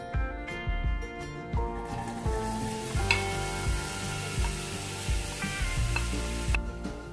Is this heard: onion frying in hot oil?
yes